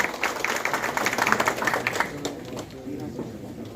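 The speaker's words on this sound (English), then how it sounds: "keep those claps coming in" Audience applause in a hall at a 6G technology event held at Nokia in Bengaluru, a dense patter of many hands that peaks early and then thins out, with a voice murmuring underneath.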